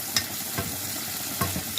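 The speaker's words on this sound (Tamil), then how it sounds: "அதையும் போட்டு இதோட வதக்க போகிறேன்" Curry leaves sautéing in a hot pan for a Tamil kuzhai soru rice dish: a continuous sizzle with a few distinct stirring scrapes, close and moderately loud.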